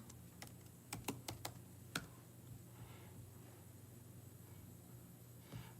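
Typing on a computer keyboard while entering a search on a help-finding website, heard as a quick cluster of faint, sharp key clicks early on, then a few scattered taps over low room hum.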